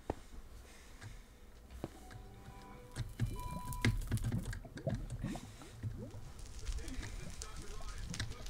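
Fire crackling and burning in a Star Wars–modded Minecraft game, a steady dense rustle with scattered sharp clicks and pops running throughout, fairly close and moderately loud.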